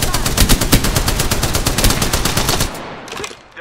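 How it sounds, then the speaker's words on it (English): Rapid automatic gunfire in the PC shooter Apex Legends, a loud dense burst of fast evenly spaced shots lasting a few seconds before cutting off, with game sound tailing after. "I'm getting shot."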